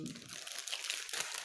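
Plastic packaging from a cross-stitch floss bobbin and sticker kit crinkles close to the microphone in a short, continuous burst of papery rustling.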